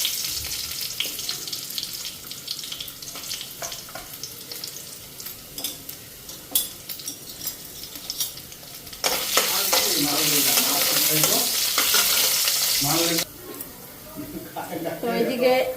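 Potatoes and bay leaf sizzle and crackle in a hot pan, with a steady frying hiss that swells loudly midway and then eases, while a person talks nearby.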